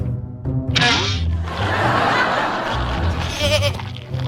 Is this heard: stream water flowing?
no